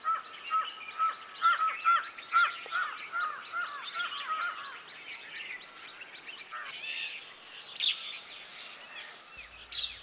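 Ducks in Nepal giving a run of rhythmic honking quacks, closely spaced and fairly near, easing into looser scattered calls with outdoor ambience.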